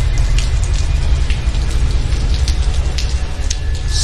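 Steady rain falls outside a bungalow, a dense even hiss of drops on surfaces with a deep low rumble, loud and continuous with no speech.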